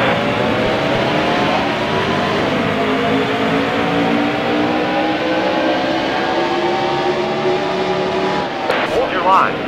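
Race cars roar and accelerate together at the green-flag start at New Hampshire in NASCAR Heat Evolution, a dense, sustained engine drone with rising revs and a spotter's radio chatter over it near the end.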